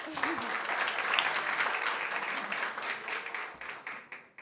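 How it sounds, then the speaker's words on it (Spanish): An audience at a conference on technology, privacy and cybersecurity gives steady applause that swells, then thins and fades toward the end. "Otro aplauso, por favor."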